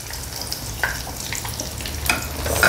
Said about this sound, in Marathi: आता आपण बदाम आणि किसमिस घालूया